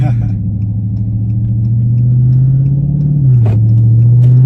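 A Dodge Charger's engine hums as a low, steady rumble from inside the car, rising slightly as it pulls in passing gear before settling, with a voice speaking briefly over it.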